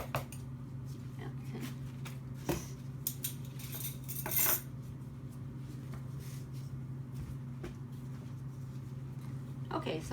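A teaspoon clinks against a bowl while bath bomb ingredients are mixed, giving a few sharp, light taps over a low steady hum, close but fairly quiet.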